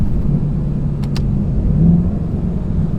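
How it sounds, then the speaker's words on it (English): A Nissan R34 Skyline engine drops a gear while driving, a steady low rumble with a brief pair of sharp clicks from the gear change midway, continuous and close throughout. "now we're in fourth. Let's downshift."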